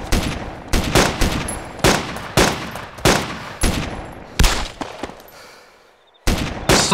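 Gunfire in DayZ, a rapid series of sharp, loud shots in irregular rhythm, each with a short echoing tail, then a brief silence before more shots resume.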